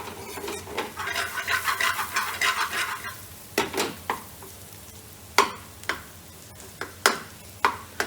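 Vegetables for a chickpea vegan curry sizzle in a pan, with a steady fry for the first few seconds giving way to repeated sharp scrapes and clinks of a utensil stirring against the pan, close and fairly loud with no talking.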